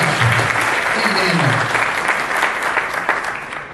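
A dense burst of audience applause at a Doctor Who fan convention costume contest, steady and loud across a few seconds, then tapering slightly at the end.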